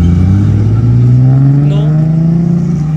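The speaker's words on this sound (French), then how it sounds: "Attention, grosse accélération, écoutez ça." A car accelerates hard on a Paris street with a loud, close, sustained engine roar whose pitch climbs steadily, and no one talks over it.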